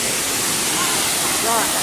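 Khlong Lan waterfall in Kamphaeng Phet pours in a dense, steady roar of falling water that fills the whole moment, with a faint voice briefly surfacing beneath it.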